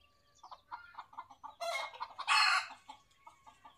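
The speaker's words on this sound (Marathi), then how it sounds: "इकडं कोंबड्यांचं चाललाय गागाट" Chickens on a household farm clucking in short repeated bursts, with a rooster breaking into two loud crows in the middle, close by with no voices.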